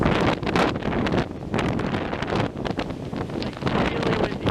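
Strong wind on a sandy shore buffeting the microphone, a loud, constant roaring rumble with gusty surges and no break throughout.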